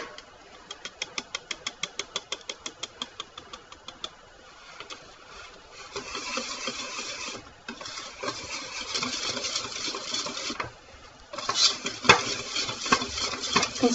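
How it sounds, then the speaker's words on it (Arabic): Chocolate yogurt cake batter mixing, opening with a fast, regular series of clicking strokes that gives way to a denser, louder churning whir, close and steady, with no talk. "كنستمر في التحريك وأنا كنلاحظ بالنسبة للخليط واش مازال محتاج يطحن ولا لا"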